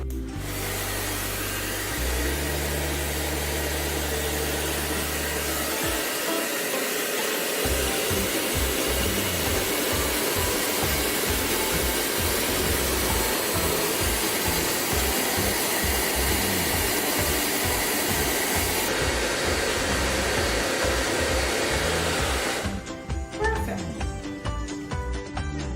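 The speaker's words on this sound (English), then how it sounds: "Seal it using the blower or heat gun sealer if it's available." A heat gun sealer blows hot air over a jar's seal, a loud steady whooshing hum with a pulsing low drone that runs continuously for the whole stretch before cutting out at the end, with a voice faintly beneath it.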